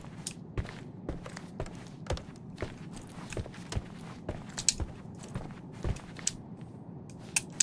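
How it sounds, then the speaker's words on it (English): Footsteps in the Sherlock Holmes Chapter One video game, a steady run of soft, evenly spaced thuds across the whole stretch, fairly faint and muffled as if overhead, with no talk. "I heard footsteps upstairs a second ago"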